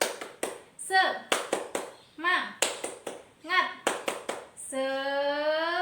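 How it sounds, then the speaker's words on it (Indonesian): Elementary schoolchildren in a classroom perform a rhythmic clapping chant, sharp claps in a patterned sequence alternating with their chanted voices in unison, ending on a long sung note. "Yuk kita tepuk semangat"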